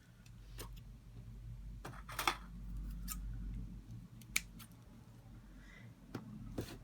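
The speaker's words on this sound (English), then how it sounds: "this extra end here, which I'll just cut off" Small scissors snip off a yarn end on a cardboard loom weaving, giving a few faint, crisp clicks scattered over a quiet room hum, with no one talking.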